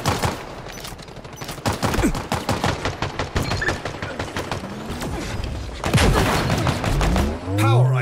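Rapid bursts of weapon fire from the video game Halo Infinite, loud and dense throughout, with repeated sharp shots, a heavier blast near the end and a faint voice under the action.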